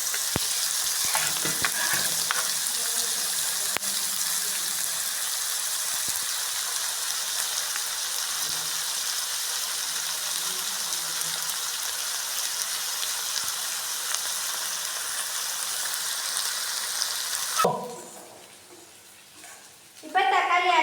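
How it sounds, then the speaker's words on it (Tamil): Food sizzles steadily while being sautéed in a frying pan for a crispy bitter gourd fry, making a loud, continuous crackling hiss that cuts off near the end. "இப்போ நல்லா வணக்கிக்கோங்க"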